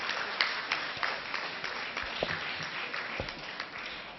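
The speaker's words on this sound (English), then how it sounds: "Big round of applause to Mr." Audience applause at an Alzheimer's care programme, a moderate wash of scattered clapping with a few sharper individual claps standing out, fairly quiet and distant-sounding.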